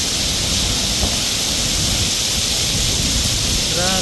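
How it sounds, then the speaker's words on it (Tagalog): Heavy downpour outdoors, a dense, steady hiss of rain pounding surfaces close by, unbroken throughout, with a brief voice near the end. "Lakas ng ulan, no?"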